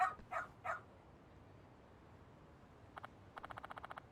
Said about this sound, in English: Ah, what a cute doggy.